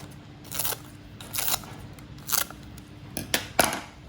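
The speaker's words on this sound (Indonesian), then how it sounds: "ini daun pandannya kita gunting-gunting aja" Scissors snip pandan leaves in a kitchen, a series of short, crisp cuts spaced irregularly, several single snips and a quick pair near the end, close and clear over a quiet background.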